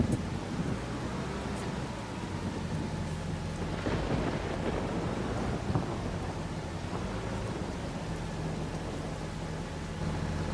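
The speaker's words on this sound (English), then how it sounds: "this is the first time we've had rain on this map" Rain and rumbling thunder from the Farming Simulator 25 video game, a steady wash of rain with low thunder rolls swelling around the middle, no voices.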